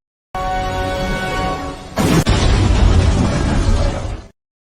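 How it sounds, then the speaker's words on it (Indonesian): An explosive detonates in a film scene with a sharp, loud broadband blast that gives way to a sustained heavy roar and rumble, following a steady intense background. "sebuah bahan peledak pun meletus"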